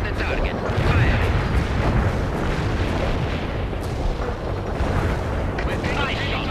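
Artillery firing and explosions in the war video game World in Conflict, a dense continuous low rumble of booms and blasts under radio chatter, loud and unbroken throughout.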